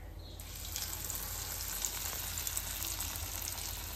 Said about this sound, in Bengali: চিংড়ি মাছ ভাজা হচ্ছে এখন, প্রন কাটলেট